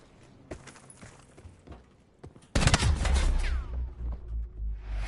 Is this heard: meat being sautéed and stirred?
no